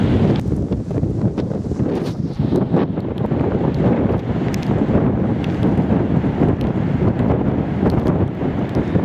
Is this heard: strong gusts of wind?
yes